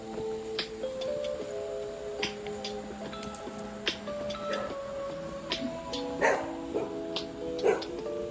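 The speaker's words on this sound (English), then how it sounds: "Barking dog." A small dog barks and yips in short sharp bursts from a nearby indoor spot, mixed with tonal beeps and background chatter from a livestream.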